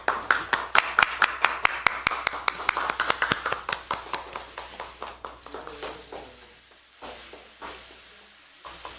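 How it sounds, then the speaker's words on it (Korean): Audience applause welcoming a speaker at a Korean political party event, a burst of rapid, fairly close clapping that builds and then gradually thins into scattered claps before fading out. "박수로 환영해 주시기 바랍니다."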